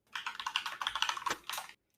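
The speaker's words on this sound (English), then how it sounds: "I love the typing sounds" Rapid typing on a computer keyboard, dense clattering keystrokes close and fairly loud for nearly two seconds with a brief pause, then stopping abruptly into silence.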